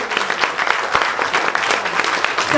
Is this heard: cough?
no